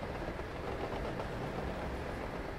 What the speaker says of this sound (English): Train goes to another part of the city.